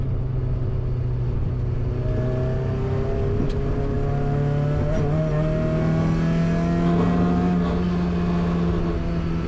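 A Mazda MX-5 with a reworked differential, exhaust manifold and brakes pulls hard in third gear, its engine note climbing steadily and loudly from inside the car, with a constant roar of road and wind noise underneath.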